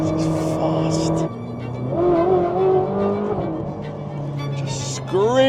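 A Ferrari 458 Speciale Aperta engine screams at high revs, its loud tonal wail climbing and shifting through gears before a sharp rising surge at the end.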